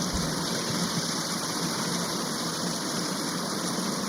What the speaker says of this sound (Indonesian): Buset, hujannya gede bacok.